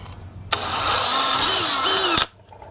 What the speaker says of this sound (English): then drill a pilot hole